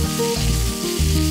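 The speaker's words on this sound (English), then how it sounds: "Turn the stove to a high setting and add the beef when the pan is hot." Beef sizzling in a hot pan on a high stove setting for a beef and onion stir-fry, a loud, continuous frying hiss with shifting tones as the food is stirred.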